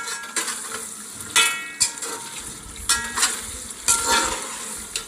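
Chicken for biryani frying in oil, with a constant sizzle punctuated by several loud bursts of stirring and scraping against the pan.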